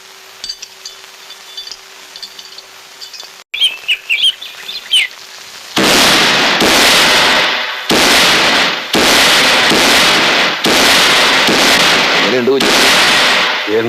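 Festival firecrackers burst in a loud, rapid string of cracks and booms after a quieter stretch of background chatter and bird chirps, with the blasts coming close together and dominating the scene.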